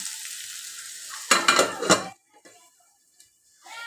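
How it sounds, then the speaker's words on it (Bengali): Potatoes frying in a pan on a home stove; a steady hiss of sizzling oil runs throughout, broken by a louder burst of stirring and clatter against the pan, then quieter sizzle with no talk. "এই যে আলু ভাজাটা চলছে"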